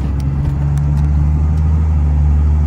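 A Dodge Cummins turbodiesel pickup truck running close by, a loud steady low engine drone holding even throughout with a few faint clicks on top.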